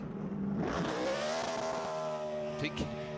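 A NASCAR Sprint Cup stock car does a burnout at the 2010 Auto Club 500 in Fontana. Its engine revs climb and hold in a loud, sustained roar with a rising, steady whine, close by, with a couple of brief sharper bursts near the end.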